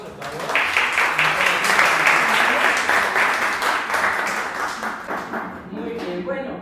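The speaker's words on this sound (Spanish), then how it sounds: "denle un fuerte aplauso, por favor." An audience claps and cheers loudly at a Pentecostal group event, a dense sustained burst that swells and slowly fades.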